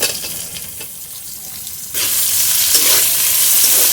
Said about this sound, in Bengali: তেলের মধ্যে ক্যাপসিকামগুলো দিয়ে দেবো, নুন দিয়ে দেবো, একটু পেঁয়াজও দিয়ে দেবো